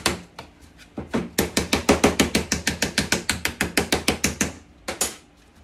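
An arbor press works on bath bomb mix with a rapid, close train of about twenty loud, crisp ratcheting clicks, pausing briefly before a final few clicks.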